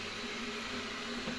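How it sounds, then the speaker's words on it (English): The hot end fan of a Sovol SV08 3D printer runs with a steady, even whir and faint hum, close and unchanging throughout. "that's the noise of this fan, hot end fan"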